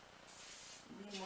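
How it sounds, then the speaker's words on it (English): Oil spray spritzed onto curly hair gives one steady hiss lasting about half a second, close and clear, followed right away by a person starting to talk. "So I'm just going to spray, like I said, the back, you know, all the curls"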